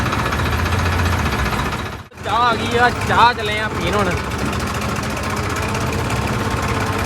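A tractor engine on a rough sandy road chugs steadily and loudly close by, with a short dip partway through, while people talk over it.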